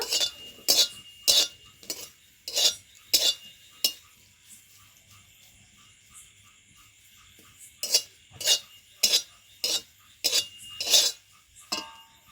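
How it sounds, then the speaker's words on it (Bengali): Curry leaves dry-roast in an empty kadai; a metal spatula taps and clinks against the pan in sharp, separate strokes, in two bursts around a quiet pause. "কড়াই কয়েকটি কারি পাতা শুকনো খোলায় ভেজে নেব।"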